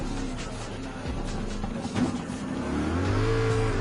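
A race car on the Le Mans circuit in Gran Turismo 7 holds a steady engine drone, then the pitch drops and a deeper tone swells near the end as it slows for braking.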